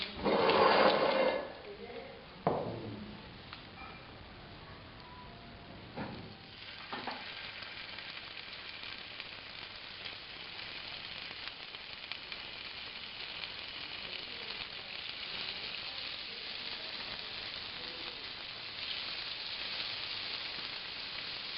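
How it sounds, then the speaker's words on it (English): Meat for zuurvlees sizzles and fries in a pan, a steady crackling hiss that runs throughout, with a few louder stirring clatters near the start. The sound is close and moderately loud. "So let's make a start with frying off the meat."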